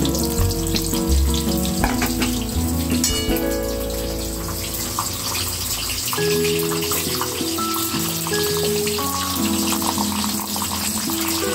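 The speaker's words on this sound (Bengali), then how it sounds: "পটলগুলো কিন্তু পুরো ভাজবো না মানে আধা ভাজা হলে আমি তুলে" Pointed gourd (potol) pieces half-frying in hot oil in a home kitchen pan give a steady close sizzle, with clinks and shifting bursts partway through and no talk.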